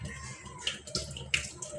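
A weak trickle of water runs from a kitchen faucet, a faint, thin splashing with a few soft irregular spatters, quiet and close throughout.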